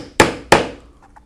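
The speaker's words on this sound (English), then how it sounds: "And then we can punch our holes" Two sharp, loud strikes of a hole punch through a leather holster, a third of a second apart, each ringing briefly before fading, with nothing else around.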